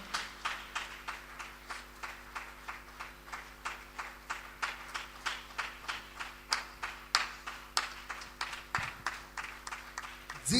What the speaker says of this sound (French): Acclame pour la parole. Acclame plus que ça.